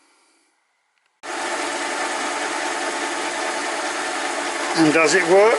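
A metal lathe running steadily after a short silence, turning a taper with a tailstock taper attachment on a dialed-in four-jaw chuck, a constant close mechanical hum with someone talking near the end.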